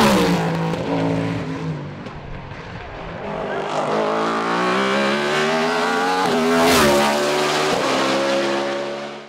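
A BMW M3 E92 race car accelerates hard on a hill climb at Marchampt, its loud, close engine note climbing steadily through the gears with brief dips at shifts and a roaring peak near the end.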